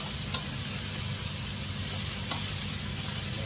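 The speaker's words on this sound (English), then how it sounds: "Add all the minced beef. And let's give a good mix." Minced beef sizzles steadily in a hot pan while being stirred, a constant close crackling hiss with occasional soft scrapes, no talking.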